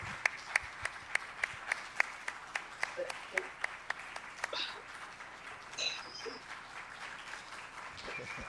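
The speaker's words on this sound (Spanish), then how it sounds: "Aplauso." A few scattered claps from an audience at a keynote lecture in Colombia, sharp isolated hand claps in a loose rhythm that thin out after a few seconds, with faint voices and room murmur underneath.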